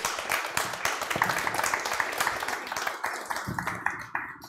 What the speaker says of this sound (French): Je vous propose vraiment de les applaudir